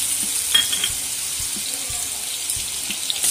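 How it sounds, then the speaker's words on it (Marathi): Green chillies fry in hot oil in a kadhai while sabudana khichdi is being made. A steady, close sizzle hisses throughout, with a few faint clinks and stirring sounds underneath. "हिरवी मिरची चांगली परतून घेणार आहे।"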